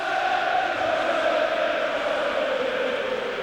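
Large stadium crowd at the 1998 Cup Winners' Cup final between Chelsea and Stuttgart, a continuous distant roar and murmur of fans with a faint rising chant, no distinct claps or whistles.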